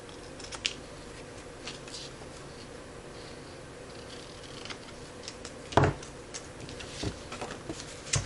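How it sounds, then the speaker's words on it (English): Scissors trim paper for a Valentine's Day treat bag in a quiet room, with faint, scattered snips and small taps spread over several seconds and one sharper crunch partway through. "And then I'm just going to use my scissors to trim that off."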